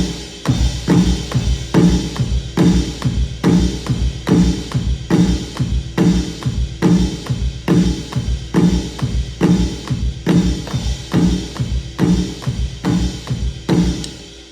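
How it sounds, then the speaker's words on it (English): A drum kit plays a steady ending figure, with even quarter notes struck on the bow of the ride cymbal over a regular kick and snare pulse, loud, close and continuous, with no talking. "And you're gonna be hitting the bow of the ride."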